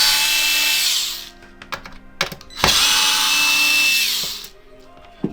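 Power screwdriver removing two T10 screws from the underside of an Xbox One X console, two sustained whirring bursts with a brief clatter between them, close and loud.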